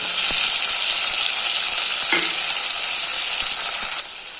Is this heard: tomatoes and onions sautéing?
yes